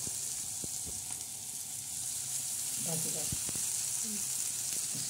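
Fenugreek greens hitting hot fried onions in a pan, a soft even sizzle with a few light stirring knocks, and a voice briefly heard over it.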